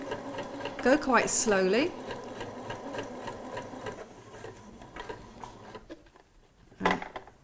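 A domestic sewing machine runs in a short, quick burst of stitching along an invisible zip, its whirring rattle loud and close, set among quiet talk and a few soft handling clicks.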